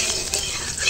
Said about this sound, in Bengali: আদাটা একটু নাড়াচাড়া করে নিলাম।